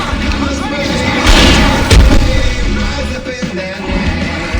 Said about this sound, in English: I can set off more of the fireworks from here and help you out!